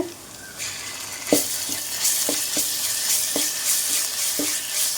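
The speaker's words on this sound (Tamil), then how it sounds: "இஞ்சி பூண்டு போட்டு நல்லா கிளறி விடுங்க" Ginger and garlic fry with a soft, even sizzle in a pan for prawn masala gravy. A spatula scrapes and clacks against the pan at irregular intervals, close by, with no talk.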